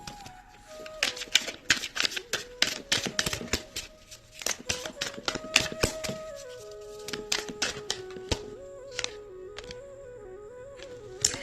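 Tarot cards being shuffled and pulled, giving a dense run of crisp, rapid flicking and riffling snaps near the microphone with a few brief pauses, set over a faint steady tone.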